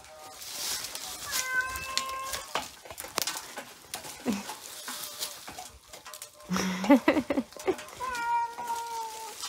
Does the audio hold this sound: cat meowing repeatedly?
yes